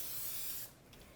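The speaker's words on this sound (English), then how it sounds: "I'm gonna spray a little bit more oil on this because this is olive oil spray" A short hiss of olive oil spray from a can misted onto a pan, lasting about half a second before cutting off, close and fairly quiet.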